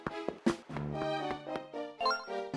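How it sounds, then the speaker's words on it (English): Assertive march theme for the pirate captain Linebeck from a Legend of Zelda DS game, with bold blustery horns and harpsichord playing a bouncy, stop-start melody, loud and close with no voices. "It's an assertive march with blusterous horns and harpsichord"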